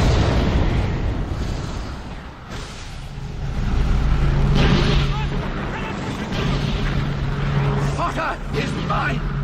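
A Harry Potter and the Goblet of Fire game duel with Voldemort: the Avada Kedavra and Expelliarmus spells lock together in a loud, sustained roaring, crackling clash over a deep steady hum, swelling midway.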